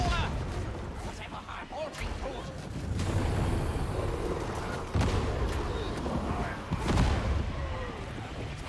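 Repeated booming grenade launcher explosions erupt at intervals in Warhammer 40,000: Darktide, heavy and close, amid continuous rumbling combat noise and some talking.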